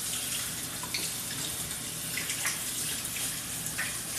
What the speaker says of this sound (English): Let me rinse my hands off real quick, Clint,